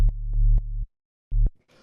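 A sine-wave sub bass plays alone as a deep, smooth low tone. A few sustained notes give way to a short pause, then a brief final note, and some faint noise trails at the end.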